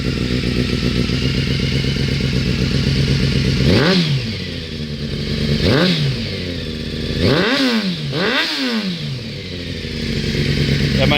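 A Honda CBR 600 sport bike idles with a steady rumble, then blips its throttle several times, giving a few sharp revs that fall back with popping, crackling exhaust bursts, loud and close.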